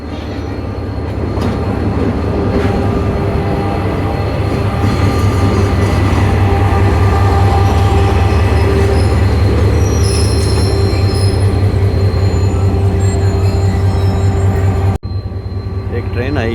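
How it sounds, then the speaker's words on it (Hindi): A train arrives at Hyderabad railway station, with a loud, steady rumble of wagons rolling past close by, rhythmic wheel clatter and high metallic wheel squeals, and faint voices in the background. "एक ट्रेन आई है, लेकिन ये ट्रेन कौन सी है मुझे इसका अंदाज़ा नहीं है।"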